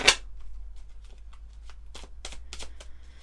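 Deck of tarot cards being shuffled close up, a sharp riffle at the start followed by soft, irregular flicks and slides of cards against each other.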